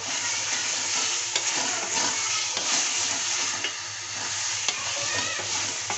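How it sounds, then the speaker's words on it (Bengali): Raw potatoes frying in spice masala and stirred in a pan, a loud continuous sizzle with repeated scraping and clattering of the spatula, close up and without speech. "আলুগুলো ভালোভাবে মশলার সঙ্গে কষিয়ে নেব বা ভেজে নেব"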